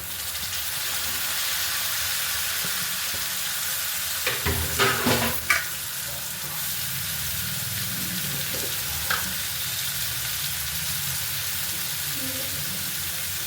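Potatoes and tomatoes fry in oil for tomato gojju, sending up a continuous loud sizzle and hiss, with a short cluster of stirring clatter and spatter in the middle and one more scrape later.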